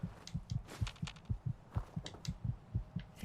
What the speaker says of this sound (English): You just hear that heartbeat thumping away.